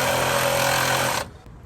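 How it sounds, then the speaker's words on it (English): Light-duty Makita Sawzall reciprocating saw cutting through old side post battery terminals on a 1981 Chevy K10, a loud, steady buzzing rasp for about a second before cutting off abruptly. "this is the best way in the world to cut off these old side post terminals. With one of these little light duty Makita Sawzalls"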